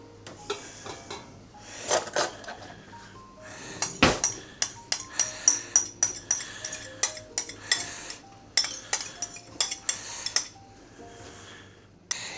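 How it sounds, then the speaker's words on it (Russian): A utensil stirs sugar, a pinch of salt and egg yolks together in a bowl for a berry meringue cake. It clinks against the bowl in quick, rhythmic strokes, close and fairly quiet, with no talking. "И попробуем сейчас это все перемешать."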